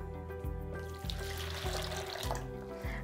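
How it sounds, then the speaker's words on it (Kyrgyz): Water, darkened to a brown tint, is poured into small containers for watering orchids, giving a close, gurgling stream with rising pitch as each vessel fills, several pours in quick succession. "Бул сууду биз ушундай идиштерге куюп"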